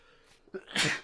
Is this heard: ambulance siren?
no